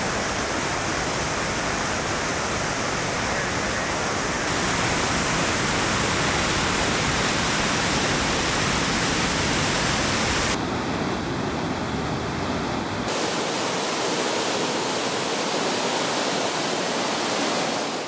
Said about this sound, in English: you can take a side trip to do a short hike to this beautiful waterfall.